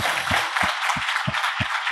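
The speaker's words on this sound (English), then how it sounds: "can we give our incredible panel one more massive round of applause?" A room audience applauds a panel at a finance event, steady clapping from many hands with a few heavier thumps pulsing at regular intervals beneath it.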